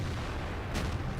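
A Su-122 tank gun fires once in a World of Tanks-style video game, a single short boom bursting out of a low rumbling battle background.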